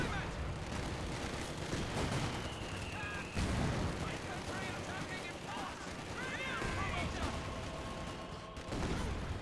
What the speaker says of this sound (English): wiped out the squad there with the Gammon Bomb